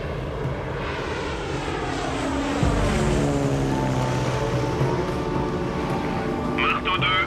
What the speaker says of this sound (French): Je pourrais demander un avion de reconnaissance.